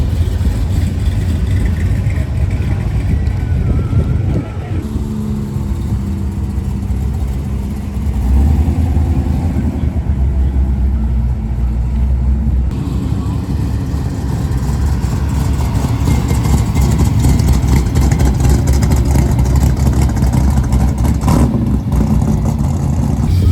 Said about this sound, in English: Next up here is some raw footage of the chops and sounds from all the different cars